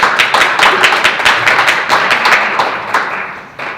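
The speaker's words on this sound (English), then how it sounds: "I want to applaud you guys" A group of people clap for trainees at a training session, loud and close with distinct, uneven hand claps in quick succession, fading slightly at the end.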